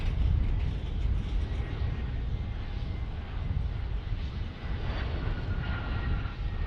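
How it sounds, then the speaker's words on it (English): An aging Delta Air Lines Boeing 717 roars in on arrival at an airport, its engine noise loud and sustained with a rumbling low end, and no talking. "here arriving is old Boeing 717 from Delta Airlines"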